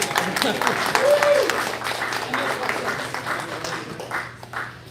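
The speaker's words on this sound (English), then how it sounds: "Now, if we can have a round of applause." Room of neighbours at a homeowners association meeting breaking into steady applause, a dense wash of clapping that holds for several seconds with voices mixed in beneath it.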